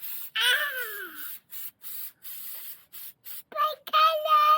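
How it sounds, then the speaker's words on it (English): Several short bursts of hissing degreaser spray from an aerosol can onto a 2009 Vauxhall Insignia brake disc, close up, with brief pauses between them. A squeaky whine is heard at the start and end. "Just spray a bit of degreasant on there."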